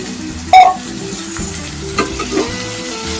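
Chopped onions sizzle in hot oil for a capsicum and gram-flour curry, with one sharp clank of a spatula on the pan early and a few soft stirring scrapes under the steady frying noise.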